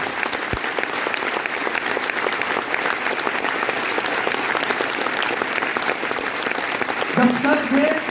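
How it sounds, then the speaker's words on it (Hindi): Indoor anniversary event audience clapping harder on request, a continuous dense roar of applause that rises toward the end, with a faint voice briefly over it near the close. "मुझे लग रहा ताली थोड़ी और तेज हो जाए तो और मजा आ जाएगा।"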